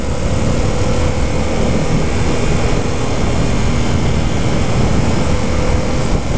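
A 2015 Yamaha FZ-07 motorcycle engine drones steadily while riding in third gear, a loud, continuous broadband roar with heavy wind rush that stays constant throughout.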